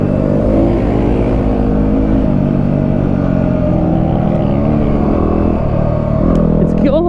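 A Yamaha WR250R motorcycle ridden in a rally, its engine droning loud and continuous close to the microphone with gentle shifts in pitch and a brief rattle near the end.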